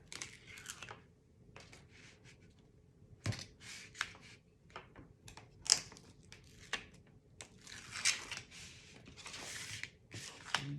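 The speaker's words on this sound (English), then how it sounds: "let's take all this backing off" Adhesive backing is peeled off paper for a scrapbook album in quick, crackly bursts of tearing and crinkling, close and quiet, with short pauses between pulls.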